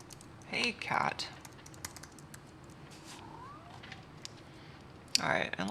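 A pet cat meows close by during a firmware-tweaking session on a winch bot, a few short mid-pitched calls with light keyboard clicks and quiet room noise around them.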